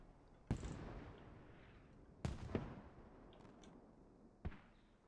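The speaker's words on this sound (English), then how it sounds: "Wow, that's actually really good mortars." Mortar fire in the tactical shooter Squad: three distant, faint booms at irregular intervals, each a sharp onset followed by a short rumbling decay over a quiet background.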